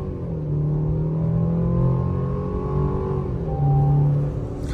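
A new Chevy Colorado pickup truck engine accelerating on a cold day, a close, loud rumbling note that climbs in pitch through the gears with a brief shift and another rising pull.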